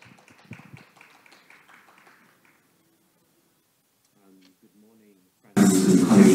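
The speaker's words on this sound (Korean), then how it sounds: "박수로 맞이하겠습니다." Audience applause bursts out loud and dense near the end at the 2022 Pyeongchang disability forum, welcoming a speaker after a stretch of talk and near silence.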